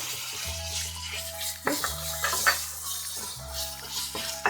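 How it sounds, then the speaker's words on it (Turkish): Minced meat stirred into softened onions frying in a pan for a Turkish potato dish, with a steady close sizzle, scraping spoon strokes and a faint background hum. "pembeleşen soğanlarımın içine 100 gram kıymamı karıştırıyorum"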